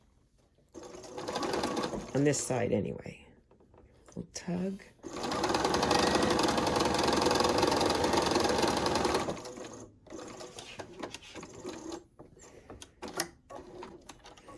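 A sewing machine stitches quilt pieces for a flower patch block in short bursts, then runs steadily for several seconds before stopping, with someone talking quietly between runs.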